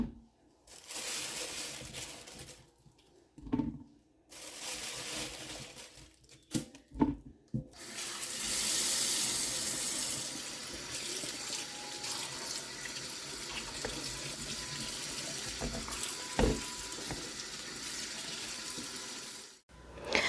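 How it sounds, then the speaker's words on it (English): Blackberries being washed under a running kitchen tap, with a steady stream of water splashing into a sink and brief pauses where the flow stops, close and fairly loud. "it looks like we need to clean and wash our berries."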